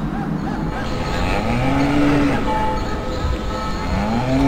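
A cow moos in the Open Rails train simulator, a long low bellow rising and falling under a steady rumble of passing rail traffic, loud and close with no talk over it.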